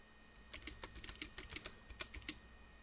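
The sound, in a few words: computer keyboard typing clicks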